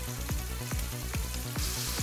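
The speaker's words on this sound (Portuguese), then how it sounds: "Vou acrescentar uma colher de sopa de manteiga nessa panela." A spoonful of butter sizzles in a hot pan while a garnish is prepared in a cooking show kitchen, a steady close frying hiss with a few clinks of the pan.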